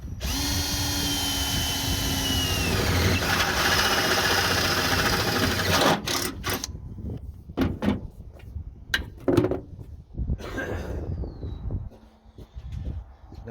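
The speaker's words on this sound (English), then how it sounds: "Now this should just go down in these holes I just drilled" A power drill whirs steadily for several seconds while boring holes into a Ford F-100 truck hood, then stops. Short clunks and knocks follow as parts are handled nearby.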